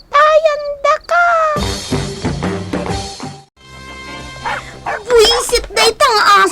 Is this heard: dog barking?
yes